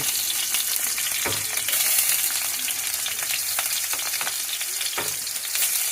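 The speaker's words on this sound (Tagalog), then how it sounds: "gisa lang natin itong ating uh, bawang at luya. Sabay na natin yung dalawang yan." Garlic and ginger sauté together in a hot pan, a loud steady crackling sizzle with scattered scraping taps of stirring throughout.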